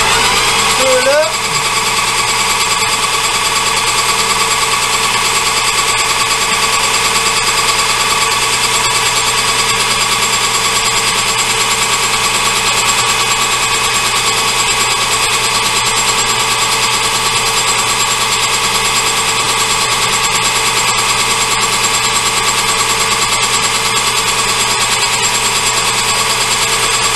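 A metal lathe runs at about 1,000 RPM with a continuous grinding hum and rattling chatter as it faces off a workpiece, a steady mechanical drone that stays loud and close throughout.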